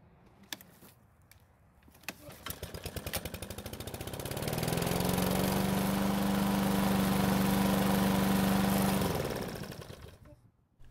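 Troy-Bilt lawn mower with a smoking fault, warm engine pulled to start: a few pull-cord rattles, then the engine catches and roars into a steady loud running drone before cutting off near the end.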